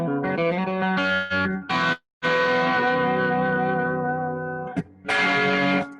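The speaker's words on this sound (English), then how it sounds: "I've just now discovered the spring reverb that sounds" Electric guitar chords ring out with a splashy, echoing spring reverb tail, delay off, played in bursts with brief pauses between strums.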